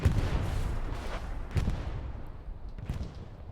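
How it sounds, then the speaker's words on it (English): Artillery shells and grenades land during a World War II-style video game match as a series of muffled booms and thuds. Dull impacts roll in at irregular intervals and fade out, with no talk over them. "So many grenades and artillery landing too."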